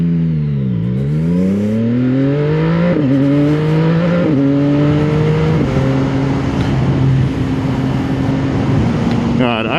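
CFMOTO 675ss three-cylinder sport motorcycle accelerating hard in first and up through the gears, engine note climbing steadily with distinct shift drops, loud and close throughout.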